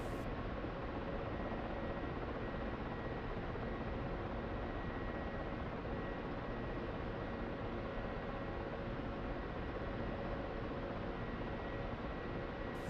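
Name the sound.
Ka-50 helicopter flying in DCS video game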